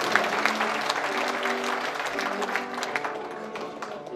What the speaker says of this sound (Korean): 큰 박수로 감사의 뜻을 전해주시면 고맙겠습니다